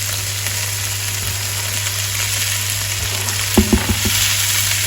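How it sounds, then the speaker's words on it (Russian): Cauliflower fries in a pan with mushrooms, broccoli and garlic, giving a steady, close sizzle over a low electrical hum, then a few sharp knocks of a utensil stirring near the end, with no talk. "Все хорошенько перемешиваем и обжариваем еще несколько минут."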